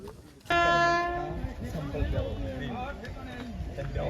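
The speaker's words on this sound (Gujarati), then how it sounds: "રેલગાડી આવી ગયા" A loud train horn blares suddenly at a level crossing, then the rumble and clatter of a passing train continue, with voices of a farmers' rally audible underneath.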